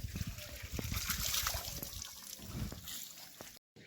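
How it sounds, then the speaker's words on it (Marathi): Water sprays and splatters onto new masonry at a Hanuman temple construction site in a continuous hiss, fairly faint, with a brief dropout near the end. "हे आमचे व्यंकट तात्यापाडे हे बांधकामावर पाणी मारत आहेत"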